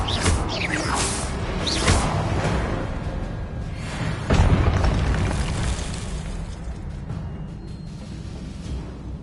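Bursting blasts and swishes from the Confringo blasting spell in the Hogwarts Legacy video game: a few whooshing flares, then a heavier explosion midway that trails off into rumbling effects.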